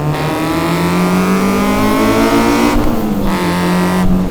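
A K-swapped Honda Civic EG engine held high in the revs in VTEC during a mountain touge drive, a loud, continuous rasping wail heard from inside the car that dips briefly at a shift before climbing again.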